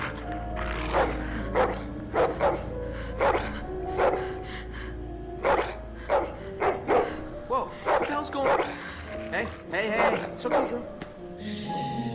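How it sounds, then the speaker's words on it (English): A dog in The Walking Dead video game barks repeatedly in short, evenly spaced bursts over a low background, with faint talk underneath. "Oh, it's the dog."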